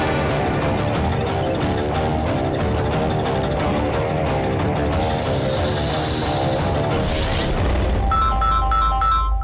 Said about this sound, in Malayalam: അമ്മയുടെ ഫോൺ റിങ് ചെയ്യുന്നു.